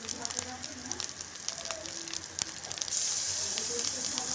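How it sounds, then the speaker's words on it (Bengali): Onion paste fries in hot oil, giving a steady crackling sizzle with small pops, which grows into a louder, denser hiss toward the end. "তেলটা গরম হতে বাটা পেঁয়াজটা দিয়ে দিলাম।"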